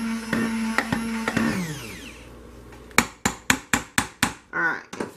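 Stick blender whirring through hot process soap, with a few sharp knocks before the motor winds down, then a rapid string of hard taps against the container, loud and close.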